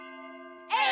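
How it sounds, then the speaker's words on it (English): A clock chimes the hour with one sustained, ringing bell-like tone that hangs steady for most of the moment before a louder, brighter burst breaks in at the very end. "The clock makes sounds when it chimes the hour."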